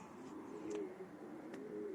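Racing pigeons coo softly and repeatedly on their night return, a low, steady cooing with faint background noise.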